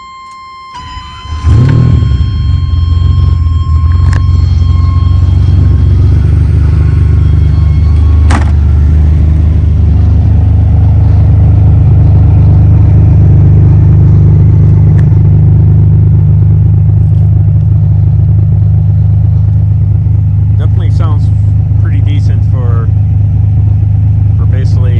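A 1998 Ferrari 456 GTA's naturally aspirated engine cranks briefly and catches, then settles into a loud, steady, close idle with deep rumble and a constant buzzing whine over it.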